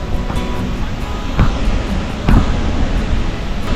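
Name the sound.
rushing water of Nuranang (Jung) Falls waterfall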